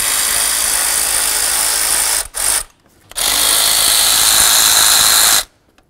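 A power tool whirs loudly up close while removing bracket nuts on a 1994-2004 Chevy S-10 engine during a throttle position sensor replacement, two sustained bursts separated by a short stop-start and brief silences.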